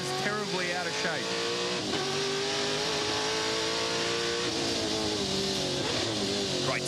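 Touring Car Masters race cars at Sandown roar past at full speed, including a 1969 Trans Am Mustang, with layered engine notes rising and falling and tires squealing, while a commentator talks over the loud racing noise.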